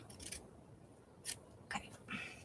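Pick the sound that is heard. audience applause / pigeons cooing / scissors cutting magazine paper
scissors cutting magazine paper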